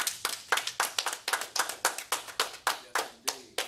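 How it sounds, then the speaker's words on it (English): An audience claps steadily for a young man at a recovery class, a run of even, moderately close claps about four per second that fades slightly at the end. "get that young man a big clap for that"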